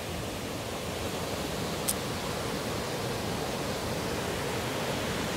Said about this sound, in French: La grande cascade, elle est toujours là